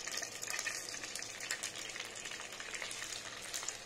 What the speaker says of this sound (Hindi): हमारे यहाँ पर आलू को फ्राई करेंगे